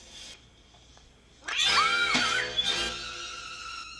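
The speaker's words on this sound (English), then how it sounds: "That was like the classic cat being thrown sound effect too." A classic film sound effect of a thrown cat: a loud, shrill yowl that bursts in, bends in pitch and fades over a couple of seconds, heard close after near silence.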